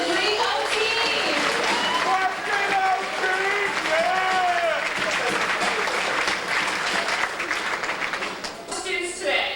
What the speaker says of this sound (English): let's give one more round of applause to the 2003 OTeam